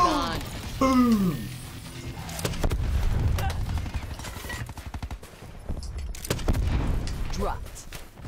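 Gun Game match in Black Ops 4 with repeated gunfire bursts and rapid shots at close range, mixed with other game noise and a voice talking over it.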